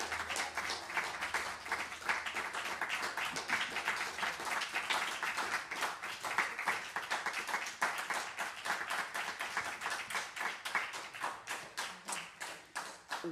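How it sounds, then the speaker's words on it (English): A concert audience claps for the performer after the show, a dense, steady round of applause that keeps going loud and close without any break. "Can we have one more round of applause for Thiago?"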